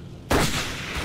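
C4-style explosive charge going off in Battlefield 1942, a sudden loud blast after a quiet moment, followed by a heavy rumbling decay that stays strong to the end of the clip.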